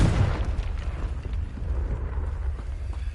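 A Confringo fire spell bursts in a Harry Potter video game, a deep rumbling explosion with a low boom that rolls on and fades through its length.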